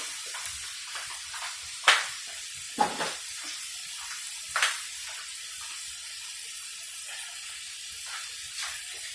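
Vermicelli browning in a pan gives off a soft continuous sizzle, with a few louder scraping clinks from stirring scattered throughout; fairly quiet and close, with no talk.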